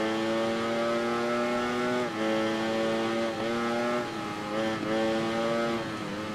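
Ducati Panigale V4 motorcycle engine in the racing game Ride 3, a loud high revving whine held steady with brief dips at gear shifts roughly every second, no talking.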